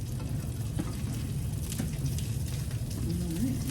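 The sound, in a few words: pork frying in a pan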